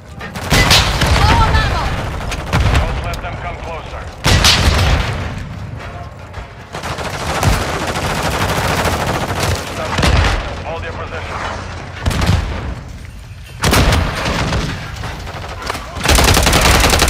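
Gunfire in the Call of Duty: Modern Warfare 3 video game, war mode: repeated loud bursts of automatic fire and booming shots in clusters, with radio-style voices talking over parts of the battle.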